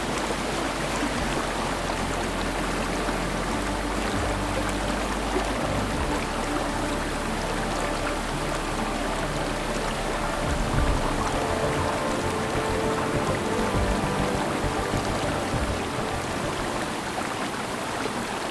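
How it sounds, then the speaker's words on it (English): Steady, dense rushing of a waterfall in an Ecuadorian cloud forest, constant and loud throughout, heard from close by. "So it's a perfect place to view the waterfall."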